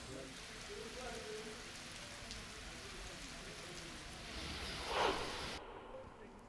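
Heavy overnight downpour in Dharashiv district, Maharashtra, a steady broadband hiss of rain with a brief louder swell near the end before it cuts off.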